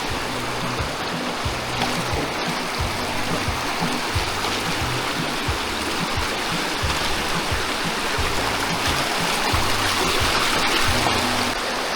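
Continuous rushing stream water flowing past riverside bamboo huts at a resort, a loud steady wash of churning current with no talking.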